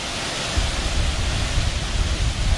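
Loud, close roar of a jungle waterfall with gusts of wind blowing off it, a continuous dense rush with low rumbling buffets rising and falling throughout, no speech.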